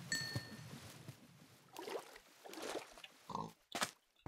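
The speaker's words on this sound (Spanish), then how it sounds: "Cerdos." Pigs oink in a video game, several short snorting grunts spaced irregularly over quiet background, fairly close and alone.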